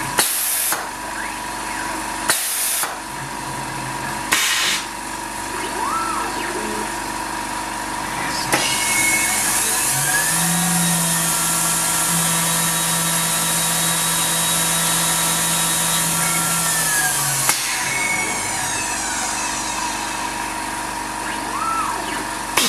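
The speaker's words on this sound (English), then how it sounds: "That was a small 4mm spot drill to put a fine chamfer" A Tormach CNC mill spot drills fine chamfers with a small 4mm spot drill, whirring steadily with a high spindle whine and a low hum, with brief bursts of hissing noise at the start.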